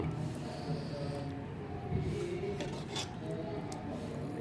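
Khanom jeen noodles and snakehead fish curry being scooped and served, with close clinks and scrapes of a ladle and spoons against pots and dishes over a low background murmur.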